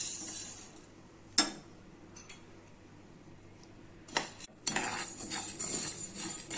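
Coriander seeds dry roasting in a hot pan, with faint scraping and a few sharp clinks and rattles of a utensil against the pan, quiet and close, with no talk.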